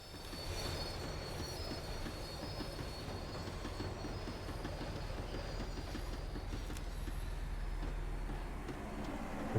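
A train thunders past in Max Payne 3 with continuous loud rolling rumble, rhythmic clattering of wheels over rail joints and a faint metallic squeal, steady and close throughout.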